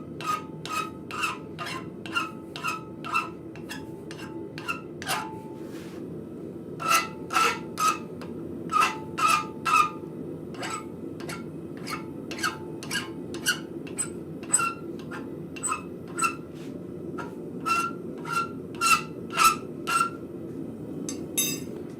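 A hand file rasps the burr off a piece of forged metal at a blacksmith shop, dozens of sharp scraping strokes in quick, irregular bursts over a low steady hum.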